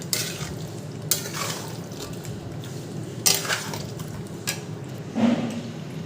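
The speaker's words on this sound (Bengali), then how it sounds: "আগে ভালো করে কষিয়ে নিই," Mutton being stir-fried in a pan, steady soft sizzling with repeated scraping stirs and occasional utensil knocks against the pan, close by with no talking.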